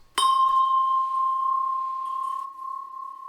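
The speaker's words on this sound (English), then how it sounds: "You can create a nice vibrato and phasing effects by spinning the chime as it sounds." A struck tubular chime spun as it rings gives a sharp metallic strike followed by a pure sustained tone that wavers and pulses with vibrato and phasing as it slowly decays.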